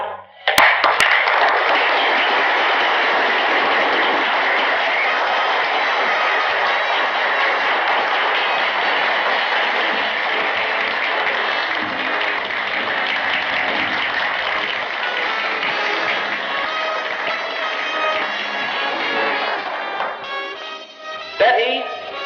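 Sustained, loud audience applause for a beauty contest finalist being brought on stage, a thick, even roar of many hands clapping that holds for about twenty seconds before tapering off.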